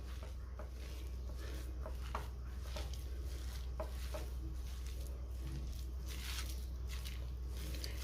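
Thalipeeth dough of rice, jowar and besan flour being mixed by hand in a bowl, giving soft, faint, steady squishing and stirring pats over a low background hum.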